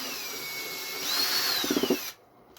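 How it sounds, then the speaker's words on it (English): A power drill bites into plastic while building a replacement habitat module, its motor whining steadily and rising in pitch with a brief stuttering grind near the end before cutting off abruptly into quiet. "it's really easy to scrape this plastic with the drill bit"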